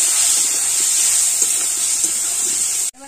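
Water poured onto powdered spices in a hot pan sends up a loud, steady steaming hiss that runs for almost three seconds and then cuts off abruptly.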